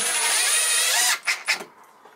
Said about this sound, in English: it's easier if you have a drill like this. You could do it by hand, of course, but this is much quicker